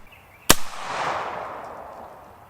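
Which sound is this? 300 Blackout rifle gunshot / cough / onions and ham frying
300 Blackout rifle gunshot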